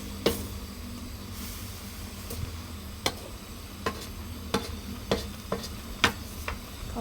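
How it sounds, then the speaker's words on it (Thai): Chicken offal dry-roasting in a pan until the oil dries out, a faint steady sizzle broken by sharp scraping clicks of stirring at irregular intervals. "คั่วไปจนให้น้ำมันแห้งเด้อพี่น้อง"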